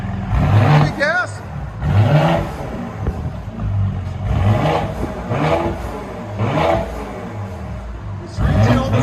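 A Mercedes GLE 43 AMG with a 3.0-litre bi-turbo engine and a straight-pipe exhaust revs repeatedly, its engine note rising and falling under loud, close conversation.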